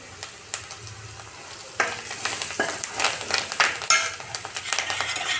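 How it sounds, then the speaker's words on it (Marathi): Turmeric and coriander leaves sizzle in hot oil for Vidarbha-style kadhi gole, with a pan being stirred, sharp sputters and a few metallic clinks over a steady frying hiss. "हळदला पण छान तेलात होऊ द्यायचं आणि थोडीशी कोथिंबीर टाकणार आहे तेलामध्ये"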